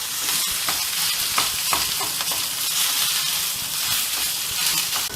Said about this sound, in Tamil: இதை இப்போ சிம் பண்ணிவிட்டு நம்ம சாதத்தை சேர்த்துக்கலாங்க